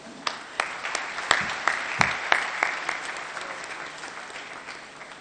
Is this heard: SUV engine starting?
no